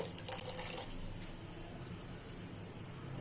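Water poured generously into a cooking pot for a raw green mango chutney, a soft splashing pour at first that settles into a faint, steady trickle, quiet and alone with no talking.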